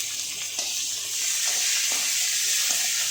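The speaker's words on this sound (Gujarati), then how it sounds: "તેમાં મીઠા લીમડાના પાન નાખીશું આ રીતે" Curry leaves and garlic crackle in hot oil, a bright hissing sizzle with small popping bursts that swells slightly as the leaves hit the pan.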